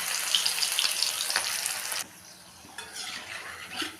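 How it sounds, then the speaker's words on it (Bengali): Battered coriander leaf pakoras drop into hot oil and fry with a loud bright hiss for about two seconds, then settle into a quieter, steady bubbling sizzle nearby. "এখন ভাজবো ধনেপাতার পকোড়া।"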